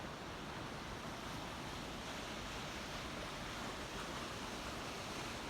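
Water keeps flowing beneath the ice at a frozen mountain waterfall on a frosty hike near Bozeman, Montana, giving a faint, steady rushing wash from a distance with no voices.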